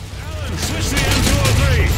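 Rapid gunfire bursts in the video game Call of Duty Modern Warfare 2, crackling shots layered under someone talking, with game radio chatter and ambient noise throughout.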